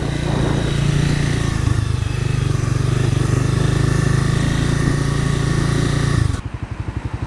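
A 2010 Honda CBR 250 motorcycle is ridden along a road, its engine holding a loud, steady high-pitched whine for about six seconds before dropping abruptly to a lower, pulsing idle.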